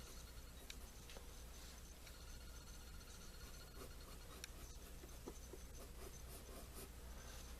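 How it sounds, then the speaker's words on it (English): A pen scratching steadily across paper while drawing a circle for a cartoon, a faint, close, continuous scribbling rub with small ticks, no voices. "So let's draw a circle right here."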